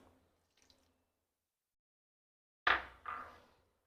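Juice from one lemon squeezed into a mint drink, heard as two short, quiet liquid splashes close together near the end after a long near-silent stretch.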